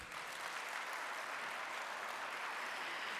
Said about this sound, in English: Can we please have a louder applause?